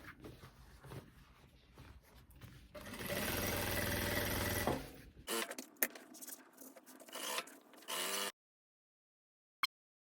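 A sewing machine stitches the front seam of a faux leather midi skirt, running in loud continuous bursts with brief pauses between them, then stopping into near silence with one small click at the end.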